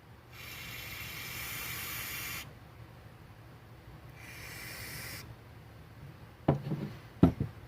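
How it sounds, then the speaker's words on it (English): Two bursts of aerosol hissing as spray goes into the choke passage of an ATV carburetor, the first about two seconds long and the second shorter, followed by a couple of sharp clicks and handling knocks. "I'm going to spray it gently in here in this choke passage"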